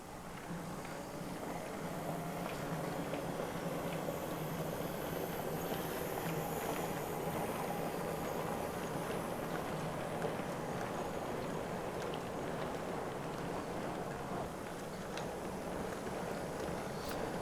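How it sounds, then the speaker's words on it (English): A freight train departs, rumbling and clattering steadily at a distance on the Stour Valley line near Haverhill, a broad continuous roar with faint rhythmic wheel knocks and wind-like noise, no voices. "The freight train leaves"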